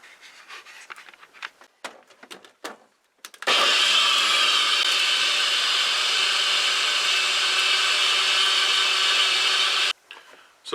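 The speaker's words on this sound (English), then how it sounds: "Then when I mix it up, everything of course will refresh in the blender anyway." A blender pulverizes a tropical fruit smoothie, a loud, steady whirring roar that runs about six seconds after some faint handling clatter, then cuts off abruptly.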